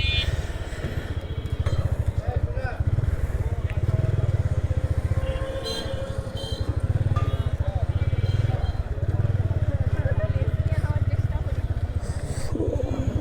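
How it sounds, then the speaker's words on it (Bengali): A motorcycle engine runs steadily near an embankment tourist spot in Rajshahi while the rider turns the bike to park it, its low idle rumble continuous under conversation. "বাইকটাকে ঘুরাই নিই"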